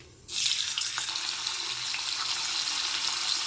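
Paneer pieces dropped one by one into hot oil set off a sudden loud, steady frying sizzle that holds bright and even throughout, with no talk.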